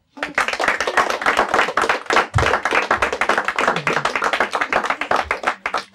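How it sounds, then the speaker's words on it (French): An audience at a French-language school quiz show claps for a student team from Our Lady of the Rosary High Secondary School, a rapid dense patter of individual handclaps close by, continuous for several seconds. "On les applaudit bien fort."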